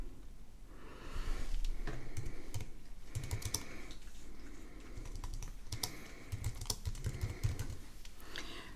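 Fingers tap out a file name on a computer keyboard in quick irregular bursts of light clicks with brief pauses between, close and fairly quiet, and no one speaks.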